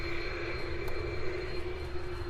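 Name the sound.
F-22 jet planes departing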